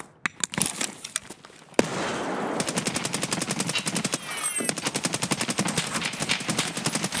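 Loud, rapid automatic gunfire in long rattling bursts from the video game Escape From Tarkov, preceded by a few scattered single shots, with a steady mechanical rhythm throughout.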